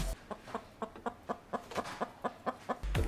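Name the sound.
rooster crowing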